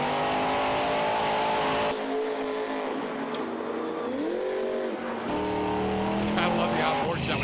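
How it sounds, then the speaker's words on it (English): Monster Jam monster truck spinning donuts inside Detroit's Ford Field arena, a loud sustained engine roar with shifting revs and tire noise, announcer commentary running over it throughout. "These Monster Jam trucks spin so fast."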